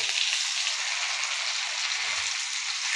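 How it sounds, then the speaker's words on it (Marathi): Bangda mackerel fish frying in oil in a pan, a steady bright hiss and crackle that holds evenly and close throughout with no pauses. "एका साईडनं पूर्ण असे मासे तळले पाहिजेत"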